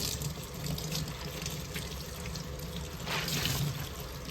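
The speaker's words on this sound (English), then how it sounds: "rinsing process is taking longer than the dyeing" Tap water runs steadily into a sink while hand-dyed fabric is rinsed, a continuous close rushing splash that swells slightly near the end, with no voices.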